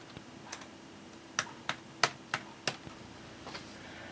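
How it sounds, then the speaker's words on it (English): Keys clicking on an ASUS Transformer Book laptop keyboard docked to its tablet, a handful of sharp, separate taps spread unevenly over a few seconds, close and fairly crisp with no talking. "the keyboard feels really nice too"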